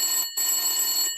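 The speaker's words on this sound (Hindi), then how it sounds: "एक दिन पिंकी के घर पर फोन की घंटी घनघनाई।" Telephone bell ringing in a Hindi Pinki comic cartoon: a bright, steady electric ring that breaks off briefly, then resumes and rings on loud and close.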